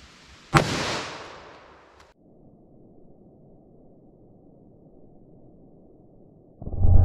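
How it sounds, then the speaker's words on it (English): .44 Magnum revolver fired into denim over ballistic gel, one loud close shot with a sharp crack and a fading echo, then quiet until a burst of noise at the end. "44 magnum through the denim and gel with no MDF."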